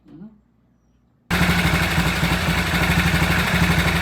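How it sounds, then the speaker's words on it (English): A BSA 441 Victor motorcycle kicks into life abruptly after a near-silent pause with a faint sound at the start, then settles into a loud, steady, throbbing idle set slightly high. "All right, that only took 2 kicks to start. I turned the idle up a little higher."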